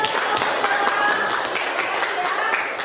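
A group of teachers applauds at a coaching session, a dense wash of clapping under overlapping voices for a few seconds.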